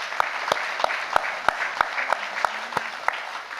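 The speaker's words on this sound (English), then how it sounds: "we should give them a round of applause" A town hall audience applauds uniformed safety crews with sustained, even clapping and sharp, regular claps standing out over the dense wash of hands. No voices come through.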